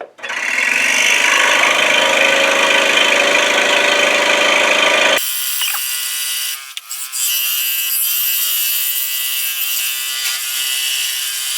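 A scroll saw fitted with a number 12 Pegasus modified geometry blade runs through 1.5 inch thick poplar, a loud steady buzzing whine that cuts off abruptly midway and gives way to a quieter, thinner hum.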